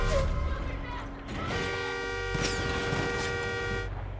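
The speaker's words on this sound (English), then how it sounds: "Stop honking, I got this." A truck horn honks in sustained blasts in the game Far Cry 5, over steady engine hum and game noise, loud and close, with a few sharp transient hits.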